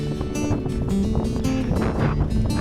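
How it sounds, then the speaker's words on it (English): Strong wind buffets the microphone on an exposed Scottish hillside trail near cliffs on the Cape Wrath Trail, with loud, close, gusty rumbling and flapping that runs throughout. "The wind is blowing the hoolie."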